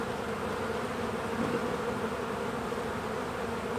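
Honey bees buzz around a Layens hive, a dense, steady drone from many insects close by that holds at an even level throughout, with no voices over it.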